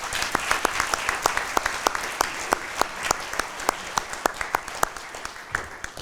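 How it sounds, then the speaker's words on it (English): Close, crisp clapping from a small group at a Chain of Survival 2024 event, individual claps distinct and fairly rhythmic, lasting several seconds. "One more round of applause."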